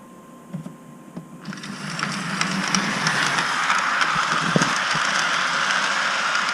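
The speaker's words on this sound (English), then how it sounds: "let's see how it does with this small train" A Lionel 8769 MPC diesel switcher model train, a small toy locomotive, starts up and runs on track with a steady, loud electric-motor whir and rattling wheel clicks that build after a few quiet ticks.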